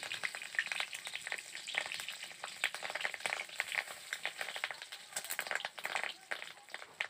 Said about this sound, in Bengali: বড়াগুলো বেশ খুব সুন্দরভাবে ভাজা হয়ে গেছে